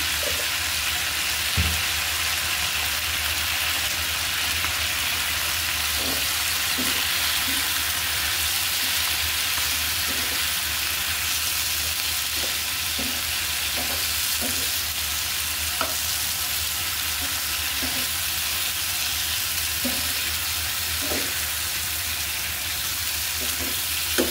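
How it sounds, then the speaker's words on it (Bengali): Steady sizzling of eggplant frying in a pan with turmeric and salt, with occasional soft stirring scrapes and clicks throughout, close and continuous. "আমার বেগুন কিন্তু ভাজা হয়ে গিয়েছে"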